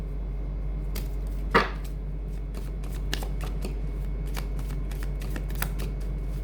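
Tarot cards are shuffled close up in a quiet room, a dense run of crisp riffling flicks and taps with one louder slap near the start.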